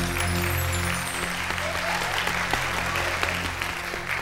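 Audience applause welcoming junior contestants on stage, a steady, dense clatter of clapping that fills the whole stretch over a low musical hum.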